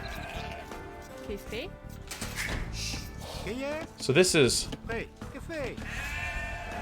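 Sheep bleat in Age of Empires II over steady game sounds, a few short wavering calls rising near the middle, while someone talks throughout.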